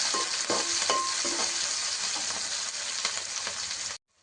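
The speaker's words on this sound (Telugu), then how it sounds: "ఒక రెండు పచ్చిమిర్చి కరివేపాకు ఇప్పుడు మంచిగా ఫ్రై చేస్తుంది" Green chillies and curry leaves fry in hot oil in a pan, giving a steady, dense sizzle with scattered stirring scrapes and crackles before the sound cuts off abruptly near the end.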